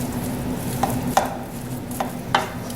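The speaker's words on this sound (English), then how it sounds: "Just keep stirring, keep mashing." Potatoes for cottage pie are mashed and stirred with butter in a pot, with a few soft, separate thuds and scrapes of the masher against the pot over a low steady background.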